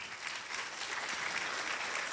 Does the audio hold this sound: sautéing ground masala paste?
no